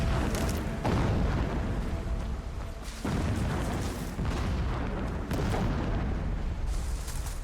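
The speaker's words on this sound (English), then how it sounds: "What is that bombing" Bombing in Horizon Zero Dawn: loud, continuous rumbling explosions with repeated heavy booms roughly every two seconds, dense and sustained throughout.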